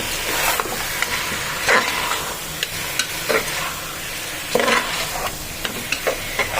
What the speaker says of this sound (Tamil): சிக்கன் ஓரளவு வதக்கிட்டோம்.